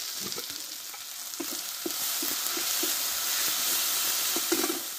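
Spices with turmeric and mustard fry in a pan for a Chandana fish curry, a steady broadband sizzle with soft stirring taps scattered through, alone and moderately close.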